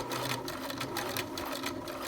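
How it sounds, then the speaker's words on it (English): A sewing machine stitches princess seams at a slow, steady pace, its fast needle chatter and motor hum running continuously and close by, with no talking. "And then just slowly stitch, and I'm making sure that my edges are lined up."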